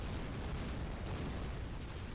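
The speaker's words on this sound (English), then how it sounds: "Let me show you a real fireworks show." Fireworks-like weapon blasts in the artillery game ShellShock Live burst continuously in a dense, rumbling wash of booms and crackles, faint and without a break.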